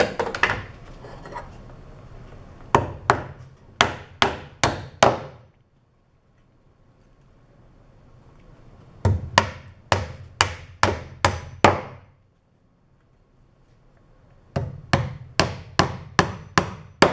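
Hammer blows driving nails into lumber for a trebuchet base, close and sharp, in three quick runs of five to seven strikes separated by short pauses.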